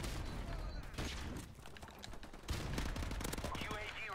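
Rapid automatic gunfire in Call of Duty, dense bursts of shots with a louder volley partway through, layered over game noise and faint speech.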